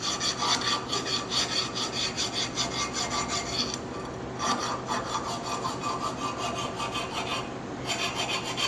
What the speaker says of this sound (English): file with a light file, just any burrs